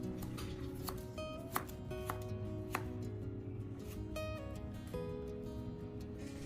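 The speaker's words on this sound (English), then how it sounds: "Start by cutting the potatoes into bite-sized pieces or thin strips depending on your preference." A knife chops potatoes into bite-sized pieces or strips, a few sparse, sharp taps on a board, faint and close under a steady background of soft music.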